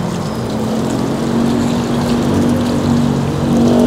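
Water from a hose sprays onto a car's engine hood, a close, steady hissing splash with a faint tonal hum underneath, continuous and without speech.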